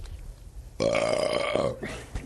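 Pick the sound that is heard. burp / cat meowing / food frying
burp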